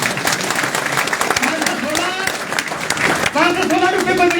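Scattered clapping rises from a seminar audience in Jodhpur, brief and thin, mixed under someone talking loudly through a microphone.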